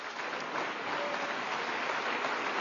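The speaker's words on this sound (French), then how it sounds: "J'espère que vos applaudissements s'adressent à la section paloise" Applause from a crowd at a political rally, a dense, even wash of clapping that holds steady for a few seconds at a distance.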